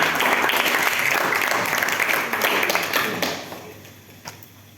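Students applaud at a school OSIS leadership training session, a dense burst of many hands clapping together that holds steady, then thins and fades out with a few last claps.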